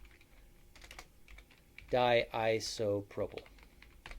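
Typing on a computer keyboard: a few soft, scattered key clicks before and after a short burst of speech.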